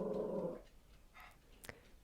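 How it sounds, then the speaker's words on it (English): A dog across the street growls and grumbles in a low, rough burst, fairly faint and distant, followed by a couple of brief fainter sounds. "there's a dog barking on the other side of the street"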